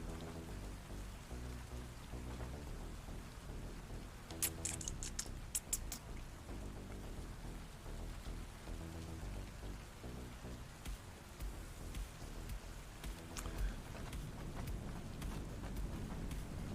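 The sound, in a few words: rain on concrete in the video game Satisfactory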